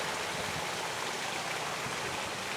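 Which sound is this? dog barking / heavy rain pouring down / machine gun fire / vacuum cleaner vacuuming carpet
heavy rain pouring down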